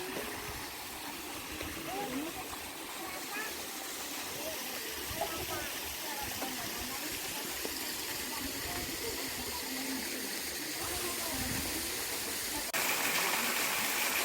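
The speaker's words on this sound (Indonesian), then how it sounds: "Wah, itu ada gemericik aliran air itu." A clear, babbling stream flows near Goa Lawa cave in Purbalingga, a steady bright rush of water close by, running continuously with a slight swell toward the end while people talk over it.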